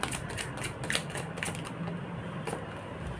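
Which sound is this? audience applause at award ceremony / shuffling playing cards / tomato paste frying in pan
shuffling playing cards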